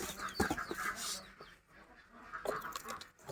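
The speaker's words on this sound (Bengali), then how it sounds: "এটা হলো আপনার সোনালি হাইব্রিড এই মুরগিটা" Sonali hybrid chickens clucking and calling nearby in a poultry pen, a few short bursts over a quiet, faintly noisy background.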